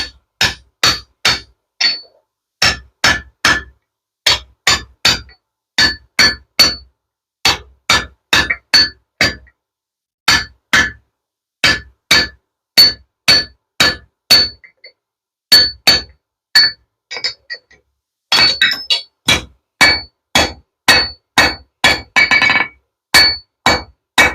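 A hand hammer strikes hot steel on an anvil while a bottle opener is forged. Dozens of sharp, ringing metallic blows land in quick bursts of several strikes, separated by short pauses, loud and close.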